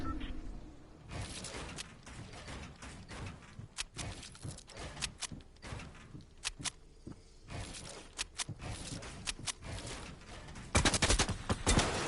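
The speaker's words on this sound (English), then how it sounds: "He's trying to shoot me down so hard." Rapid gunfire bursts and single shots from a Fortnite battle during a build fight, loud and repeated across the clip with short gaps, ending in a dense volley.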